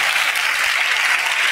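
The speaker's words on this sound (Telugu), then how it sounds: "చప్పట్లు కొడుతూ దేవునికి స్తోత్రాలు చెప్దాం" A church congregation claps in praise to God, a dense, even wash of many hands applauding together at close range, with no talk over it.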